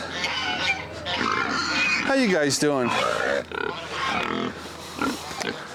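Pigs grunt and squeal close by while a person talks over them in a friendly tone.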